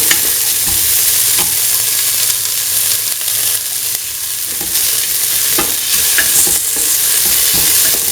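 Onions sauté in a pan with a loud, steady sizzle that fills the whole stretch, broken now and then by the scrape and clatter of stirring.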